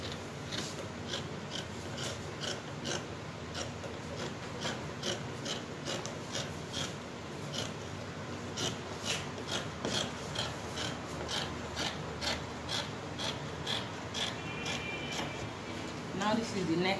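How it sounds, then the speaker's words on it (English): Scissors snip through fabric in a regular series of crisp cuts along the shoulder slope and neckline of an off-shoulder cowl kaftan, close and steady with a faint background hum. "So first I will cut the shoulder slope and the neckline."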